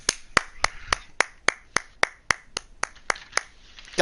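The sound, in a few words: hand clapping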